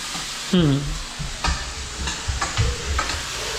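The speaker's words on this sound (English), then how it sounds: "they're frying in the pot" Steak and shrimp sizzle and fry in butter in a pot with occasional stirring scrapes, and a brief voice-like sound near the start.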